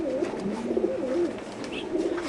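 Racing pigeons coo nearby in soft, repeated throaty warbles, several calls overlapping across a couple of seconds.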